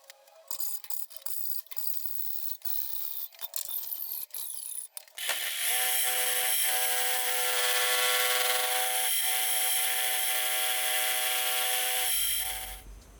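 Metal bracket for a lathe DRO being cut down in a workshop, a loud continuous grinding or cutting drone that starts after a few seconds of lighter mechanical clicks and runs steadily for about seven seconds before stopping.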